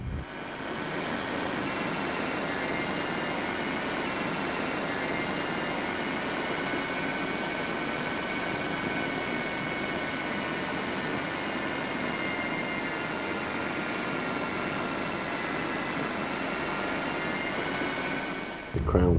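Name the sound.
yarn spinning frame running in a carpet mill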